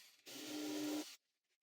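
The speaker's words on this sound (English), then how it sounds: "I'm using a countersink in the drill to countersink the holes" A drill fitted with a countersink bit grinds into a hole in a wooden board, one close, steady whirring rasp lasting about a second with a faint tone, then stopping abruptly into silence.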